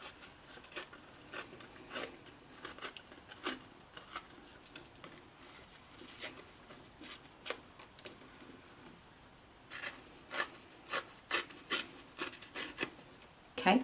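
Cardstock edges being torn by hand for a stamped birthday card, a run of soft, rough ripping and rubbing bursts in uneven clusters, close and quiet.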